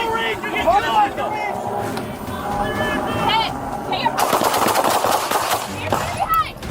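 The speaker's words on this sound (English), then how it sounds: "Shots fired." Gunfire erupts during a police shootout on a road after a high-speed chase, loud dense bursts of shots over sirens and shouting officers, with a voice heard throughout.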